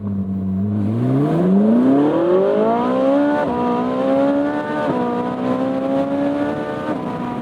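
Ferrari 458 Spider V8 revving hard through an acceleration pull, the engine note climbing steadily in pitch with brief dips at upshifts, loud and close throughout.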